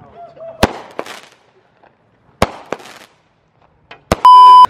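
Small mini firework cake going off outdoors on the Fourth of July, a few sharp separate pops with crackling tails spaced across several seconds, ending in a loud clipped burst, with faint voices.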